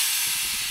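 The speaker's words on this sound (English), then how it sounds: "A lot of air in the system." Air hissing out of a PE water line feeding a cattle float valve, a continuous loud broadband rush for under a second, close and steady with no talk.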